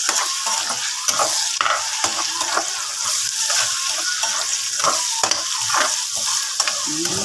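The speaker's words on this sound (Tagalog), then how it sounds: "nagdagdag ako dito ng kamatis" Tomatoes frying with sautéed garlic and ginger in a pan, a loud, close crackling sizzle punctuated by rhythmic stirring scrapes and clatters of a spatula throughout.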